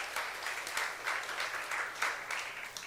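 A church youth congregation applauds during a sermon, a steady wash of clapping with a few louder bursts, fairly faint and a little distant, with no talk over it.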